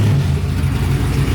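A Chevy C10 square body truck with long tube headers fires up and revs, a loud, close, deep engine rumble with a throbbing low-end pulse throughout.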